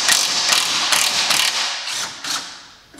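A ratchet wrench with a 13 mm socket works a retaining bracket near a GMC's rear leaf springs, making about six loud, close bursts of rapid clicking that fade toward the end, with no talk.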